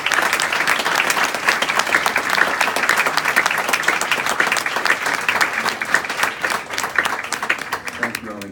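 A room full of people applauds steadily to honor Marie Velasquez at a school district proclamation, dense clapping sustained throughout and tapering slightly at the very end.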